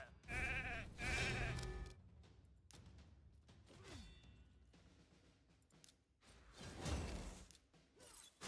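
Sheep bleats from a video game, two loud harmonic calls in quick succession at the start and another later, mixed with soft swooshes, thuds and mechanical game effects.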